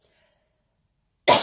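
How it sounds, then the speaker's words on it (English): A single sudden, loud cough bursts out at the end after a near-silent stretch, close to the microphone. "I think I'm going to cough in a second."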